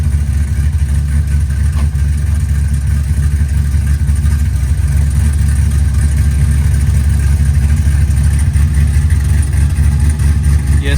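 An LS-swapped dually pickup truck runs in second gear, its engine a loud, steady low drone close by, holding an even note throughout with no voices.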